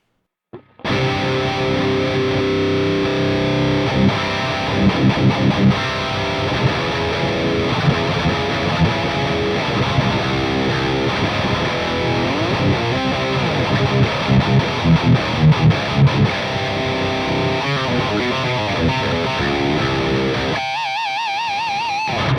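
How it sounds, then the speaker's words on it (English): Heavy distorted electric guitar runs through the Archetype plugin on a Neural DSP Quad Cortex, with dense, loud chugging riffs and palm-muted bursts that play alone for about twenty seconds before stopping abruptly. "Super heavy, the heaviest plugin in the universe, now in the lightest guitar processor in the universe."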